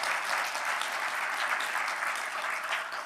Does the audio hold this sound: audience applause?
yes